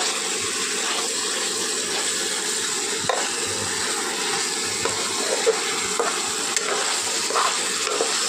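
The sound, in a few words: sautéing potatoes and eggs for egg biryani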